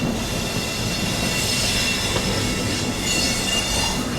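A 22221 CR Rajdhani Express pulls into Gwalior Junction with a loud, steady rolling rumble of coaches and intermittent high wheel squeal throughout; no voices.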